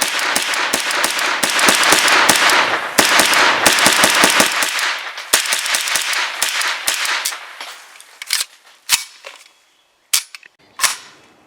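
A KUSA KR9 AK-pattern carbine fires 115 grain 9mm rounds in a rapid string of sharp, loud cracks, then slows to a few spaced single shots with quiet gaps toward the end.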